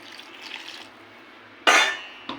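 Water splashing into a cooking pot of data chorchori with potatoes and greens: a short, sharp pour rises suddenly, then a brief second splash follows, after quiet soft kitchen handling.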